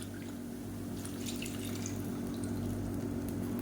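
Soaking water is poured bit by bit into rice flour while cooking kozhukattai dough, heard as faint, quiet dripping and trickling over a steady low background hum.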